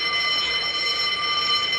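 A prison fire alarm rings steadily and continuously with a shrill, electronic buzzing tone, loud and close, with no pauses and no voices.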